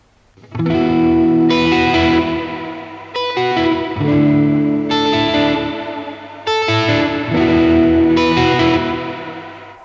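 Reverb from a UAD Golden Reverberator pedal set with reduced bass decay and boosted middle and treble, washing over sustained, distorted guitar chords that swell and ring in three loud phrases with bright, shimmering tails.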